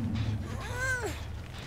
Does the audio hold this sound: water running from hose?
no